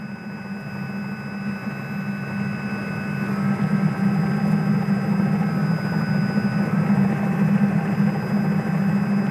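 Inside the cabin of a Robinson R66 helicopter, the turbine engine and rotor give a steady, loud hum with a constant high whine, gradually building as power rises for takeoff.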